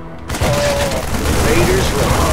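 Dense StarCraft 2 gunfire rattles steadily after a brief quiet start, loud and continuous like a chattering barrage, with shouted voices mixed into the din.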